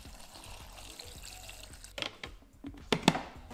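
Water pours into a blender holding peaches, raspberries and apple concentrate: a faint trickle at first, then a few louder splashes and glugs near the end.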